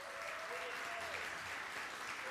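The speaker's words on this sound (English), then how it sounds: "let's just give them a round of applause" A church congregation at a Sunday celebration service gives a steady round of applause for team members, continuous clapping throughout with a faint voice underneath.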